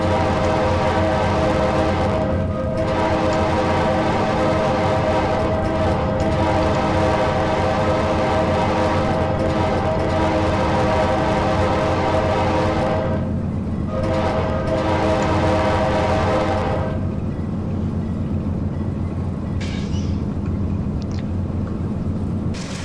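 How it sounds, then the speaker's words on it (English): An Amtrak Dash 8-32BWH locomotive in Train Simulator 2017 sounds its horn in long, loud, sustained chords over a heavy rumbling diesel engine and rail noise, with several brief breaks between blasts. "I kind of like the way it sounds before you even blow the full horn"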